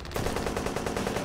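Rapid automatic gunfire in the World War II shooter Honor & Duty: D-Day rattles in a fast, even burst of close, loud shots that runs for just over a second.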